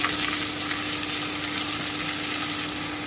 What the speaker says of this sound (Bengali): আমি একটু নেড়ে নিচ্ছি এবারে আমি লাউটা দিয়ে দিচ্ছি